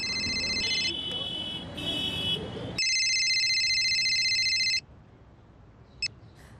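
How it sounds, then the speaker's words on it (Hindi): A telephone on an outgoing call gives repeated ringing tones in bursts, fairly clear and close, with faint background noise and a brief click near the end. "जरा फोन लगाओ सुनीता दीदी को।"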